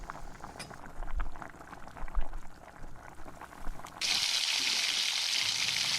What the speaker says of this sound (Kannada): ಇವಾಗ ಈರುಳ್ಳಿ ಹಾಕಿಬಿಟ್ಟು ಚೆನ್ನಾಗಿ ಫ್ರೈ ಮಾಡ್ಕೊಳ್ಳೋದು